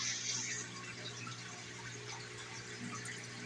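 Steady flowing water, like a small waterfall splashing into an aquarium tank, continuous and close with a faint low hum underneath.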